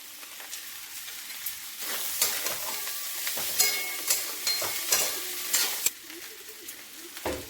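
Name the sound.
fried potatoes added and stirred in a frying pan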